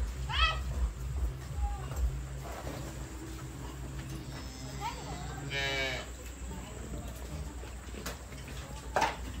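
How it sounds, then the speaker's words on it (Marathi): A bull lowing at a farm, with a few drawn-out moos over a steady low hum and scattered background noise. Other animal calls and faint voices can also be heard. "तो बैल आहे ना तिकडं सरांचं"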